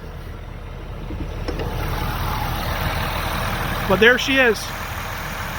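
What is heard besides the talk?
vehicle engine idling at higher RPM in the cold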